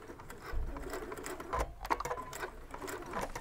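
A sewing machine runs steadily, stitching fabric for a drawstring shoe bag, its rapid even needle clatter close and continuous with small shifts in pace.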